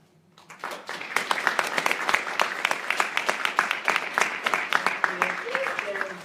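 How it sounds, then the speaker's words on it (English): An audience at a Native American youth prevention day event breaks into applause, building quickly from a quiet start into steady, dense clapping that continues for several seconds. "Please give these kids a round of applause just for coming out here"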